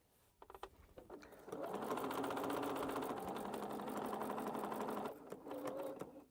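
A sewing machine stitches a quilt, a few short starts before settling into a sustained, loud, even whirring run of several seconds, then a brief second burst; close and unaccompanied by speech.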